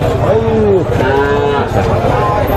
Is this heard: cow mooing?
yes